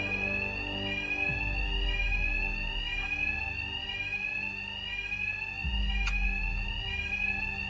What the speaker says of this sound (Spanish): El ruido de la alarma cubrirá mis ataques.